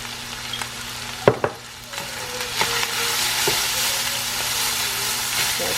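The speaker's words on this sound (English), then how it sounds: "stir that all in." A spoon stirs pepper and other ingredients through food frying in a sizzling pan, a steady close hiss of frying with a few sharp scrapes and clinks near the start.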